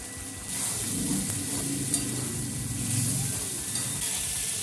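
Fried spices and grated tomato are stirred and sizzle in a pan for chicken bhuna, giving a close, continuous frying hiss with repeated scraping stirs throughout.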